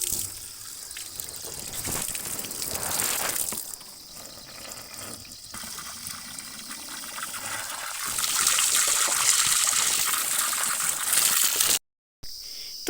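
Cold water gushes from a field water tank in a steady, loud, hissing rush. The flow shifts slightly in strength partway through and cuts out for a moment near the end.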